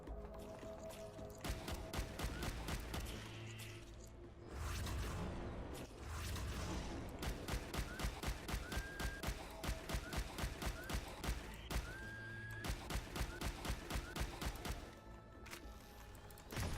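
Shotgun blasts in the video game Subterrain, a rapid series of sharp, loud shots in close succession with short gaps, mixed with game effects and ambient sound.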